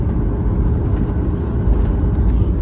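Inside a Boeing 737 during takeoff from Alicante, a loud, steady low cabin rumble fills the space, dense and constant with no voices.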